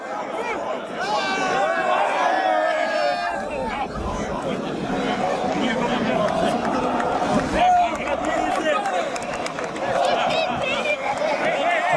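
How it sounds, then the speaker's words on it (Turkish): Fenerbahçe basketball fans chant together in a packed arena at a championship ceremony, a loud, sustained mass of voices filling the hall with a rising and falling crowd roar. "Özel bir tezahürat yapılacak şimdi."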